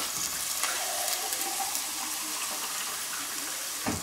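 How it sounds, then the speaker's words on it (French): Water poured from a container into a pot as the base for a vegetable soup, a steady rushing splash that runs the whole time with no one speaking. "on va mouiller avec de l'eau"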